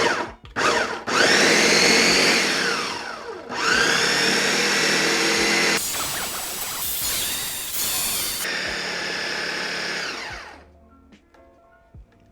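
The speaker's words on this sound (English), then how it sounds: "So we're gonna blend this until it is smooth, and then we're going to transfer it to a bowl." A kitchen blender pulses butternut squash in loud bursts of whirring motor noise that stop and restart several times, each burst running a few seconds before the sound drops to quiet.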